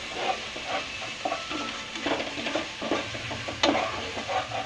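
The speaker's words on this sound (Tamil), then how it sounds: "எண்ணெயிலே நல்லா மசாலாவோட பச்சை வாசனை போகிற அளவுக்கு நல்லா மிக்ஸ் பண்ணி விட்டுக்கோங்க" Chilli powder masala frying in oil for chicken gravy, stirred with a spoon: close scraping strokes over a continuous sizzle, one sharper clink near the end, no voices.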